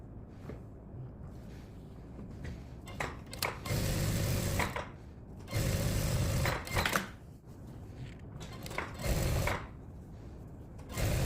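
Bursts of sewing machine stitching on the front panel of a denim jacket, several loud close runs of rapid mechanical chatter separated by short quieter gaps.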